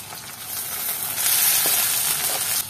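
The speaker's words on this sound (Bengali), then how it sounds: "আমরা এবার মরিচ, পেঁয়াজ এবং চিংড়ি মাছটাকে ভেজে নিব।" Chili, onion and prawns fry in hot oil for a prawn mash, a steady bright sizzle that swells slightly midway, with a couple of soft stirring knocks and no voices.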